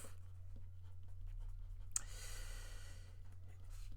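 A pen writing out a geometry note about consecutive angles in a parallelogram, its soft scratchy strokes running steadily near the mic under a low background hum, with one sharp tap partway through.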